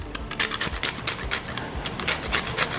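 Whole nutmeg grated by hand, a rapid rhythmic series of close raspy scraping strokes, about four per second, with no speech.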